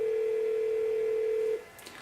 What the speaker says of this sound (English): going to dial it from this phone over here